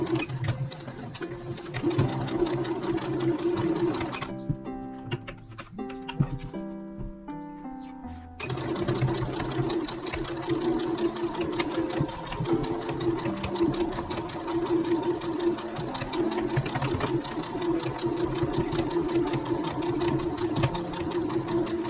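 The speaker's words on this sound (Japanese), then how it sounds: "返し口をここ6センチ開けて、 でくるりっと縫っていきます。" A sewing machine stitching a small mini pouch, running in a rapid, steady mechanical whir up close, with a brief pause partway through before the stitching resumes and carries on to the end.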